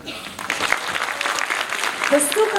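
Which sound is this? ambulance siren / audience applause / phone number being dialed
audience applause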